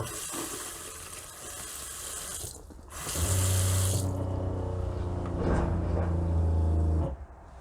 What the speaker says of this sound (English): you heard the pump turn off now